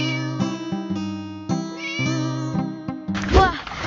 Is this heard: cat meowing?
yes